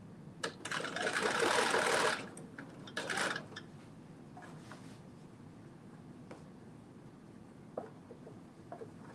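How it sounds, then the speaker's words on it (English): A sewing machine runs a basting stitch around a dress bodice in two short close bursts of rapid mechanical whirring, followed by quiet ticks and small handling clicks. "I'm just doing this basting stitch all the way around"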